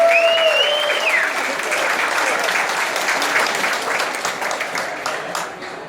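Crowd applauding volunteers at a gathering, a full sustained round of clapping from many hands that slowly tapers off, with a brief voice early on.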